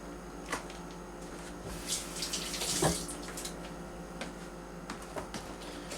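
Tap water runs steadily over cucumbers being rinsed for Mediterranean-style fridge pickles, a continuous splashing flow with small clicks and knocks, fairly quiet and with no talking.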